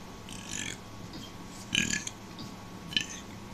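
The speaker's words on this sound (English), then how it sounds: "I actually make myself self-burp." A man burps on purpose, several short guttural belches spaced apart, fairly close and quiet with little else around them.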